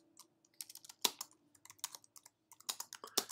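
Keys clatter on a computer keyboard while spreadsheet statistics are being entered, with irregular bursts of close, crisp keystrokes and short pauses between them.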